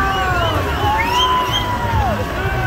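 Wailing sirens sweep up and down over loud street noise and traffic, several tones overlapping, fairly close.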